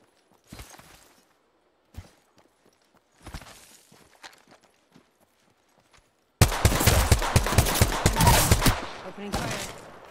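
Gunfire in Apex Legends: sparse faint shots and clatter at first, then a loud sustained burst of rapid automatic fire with a brief pause and a final volley near the end.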